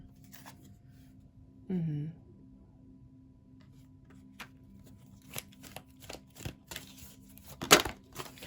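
A deck of tarot cards is shuffled by hand in a quiet room, giving soft, scattered riffles and taps that grow busier toward the end, with a brief voice sound early on.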